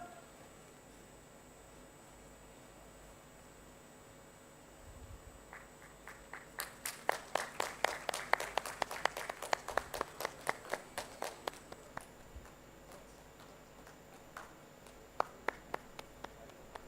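Scattered hand claps from a modest audience at a state industrial summit inauguration swell into a brief round of applause, fairly distant and thin over a quiet room hum, then fade to a few isolated claps.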